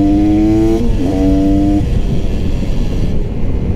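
A GasGas 300 two-stroke supermoto motorcycle engine, loud and close, holding a high buzzing rev that dips briefly, climbs again, then drops into a rough, churning idle mixed with wind rumble.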